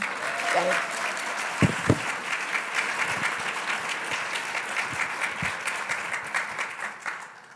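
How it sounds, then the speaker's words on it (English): An audience at the Ohio Engagement Summit gives a sustained round of applause, a dense steady wash of clapping with a few sharper, louder claps standing out early on. "So can we give another round of applause for Carolyn?"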